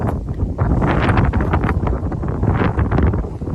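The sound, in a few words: strong wind blowing on the microphone outdoors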